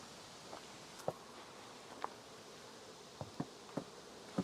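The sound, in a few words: bees buzzing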